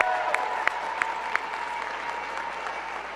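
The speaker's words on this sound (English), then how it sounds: "Let's give Principal Wilkerson and all your teachers a big round of applause." An audience at a school gathering gives a steady wash of applause for the students, the principal and the teachers, with a few sharper claps near the start and no talking over it.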